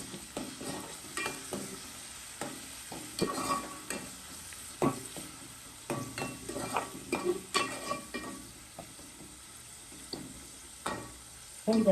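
Tomatoes fry in oil with onion, black pepper, bay leaf and curry leaves in a pan for mutton curry, a low steady sizzle under frequent scraping and clinking of a spoon stirring, with no talk.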